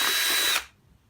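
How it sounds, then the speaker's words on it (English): A power drill with a 10 mm bit bores through the plastic plunger of a silicone tube, a loud steady whine close by that stops abruptly about half a second in, leaving quiet. "So you get your 10 mil drill bit,"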